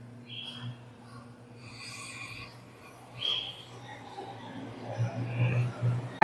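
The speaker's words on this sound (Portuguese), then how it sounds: "Eu desfio os fios do barbante para torná-lo mais fininho" Soft, close rubbing and rasping as individual threads are pulled out of cotton twine, quiet and intermittent, with scratchier strokes growing a little louder toward the end.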